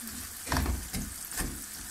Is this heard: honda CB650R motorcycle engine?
no